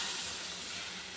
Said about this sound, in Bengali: মাছের ঝোলটা ফুটে গেছে